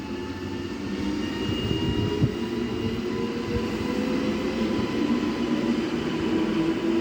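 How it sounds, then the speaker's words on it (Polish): Steady electric hum and rising motor whine of an electric locomotive pulling away from Opole Główne station in Poland, with low rumbling wheels and rail noise at moderate distance. "Dźwięk jakby ruszał Griffin 160."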